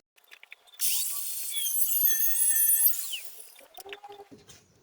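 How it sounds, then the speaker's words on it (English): An angle grinder cuts thin metal pieces in one close, high, whining burst lasting about two seconds, then winds down, followed by a few light clanks of metal being handled. "after much angle grinder cutting, I have four 1 meter long thin pieces and a bunch of side pieces."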